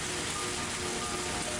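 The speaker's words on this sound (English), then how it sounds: "It didn't look like the rain was going to stop anytime soon." Rain falls steadily in the Higurashi When They Cry visual novel, making an even, hissing wash of drops over a surface. It is soft and continuous, with no voices.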